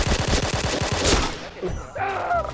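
Rapid automatic gunfire from the Point Blank shooter game, a close, loud burst of evenly spaced shots that stops partway through, followed by a short second burst of firing.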